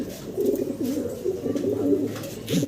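A male Sirazi pigeon coos up close in low, rolling, repeated calls that run almost continuously through the clip.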